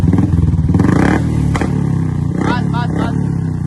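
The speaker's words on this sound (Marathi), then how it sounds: "आता तुम्हाला या कोब्रा सायलेन्सर बुलेटला आवाज बघू का." A Royal Enfield Bullet motorcycle fitted with a Cobra silencer thumps close and loud in a fast pulsing idle that swells into revs, with people talking over the engine.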